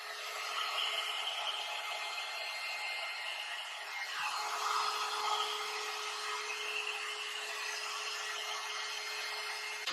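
A hair styling dryer on its cool setting hums steadily with an even whirring drone and a faint high tone, briefly dipping midway before continuing.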